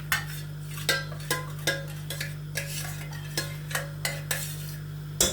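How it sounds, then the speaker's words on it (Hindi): Ghee is spooned into a cooking pot of meat and chana dal. About a dozen sharp metal clinks of spoon against pot come at irregular intervals over a low steady hum, with no talking. "ये मैं घी डाल रही हूँ अपने हिसाब से"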